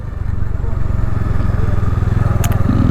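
A motorcycle engine drones loudly and steadily at close range at a highway toll plaza, with a low, rough putter throughout.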